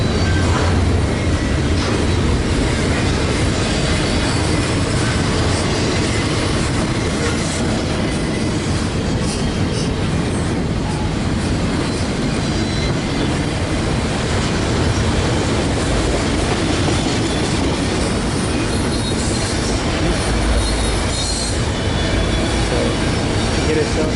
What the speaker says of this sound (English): Get ourselves a train meet all right on the North Shores, along the North Shores of Lake Superior